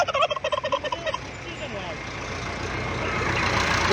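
A turkey gobbles in a quick rapid burst close by at a poultry market in Sungurlu, Turkey, followed by a steady rumble of traffic or engine noise.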